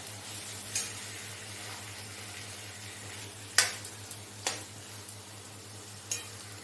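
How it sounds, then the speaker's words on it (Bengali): Fried potatoes are stirred into spice paste sizzling in a pan, giving a quiet, steady low sizzle under a faint hum, with four sharp clinks of a utensil against the pan spaced a few seconds apart. "এবার আমি ভেজে রাখা আলুগুলো এর সঙ্গে মিশিয়ে দেবো।"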